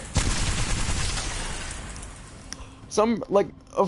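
Rapid automatic gunfire from a gun in Apex Legends rattles loud and dense for about two seconds, then fades into quieter game sounds as a voice talks over the end.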